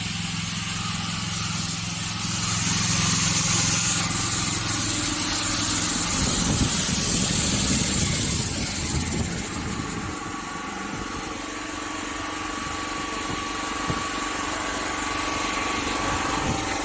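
The machine engine of a mobile van tire service unit runs steadily nearby, a continuous droning hum with a rougher, louder stretch in the middle.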